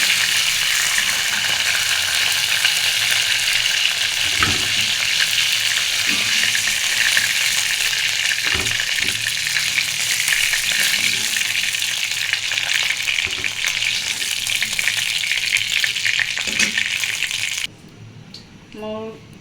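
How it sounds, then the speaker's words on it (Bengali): Chicken meat fries in a pan with a loud, continuous sizzle and scattered stirring knocks, then the sizzle cuts out abruptly near the end. "মুরগির ভাজা হয়ে গেছে"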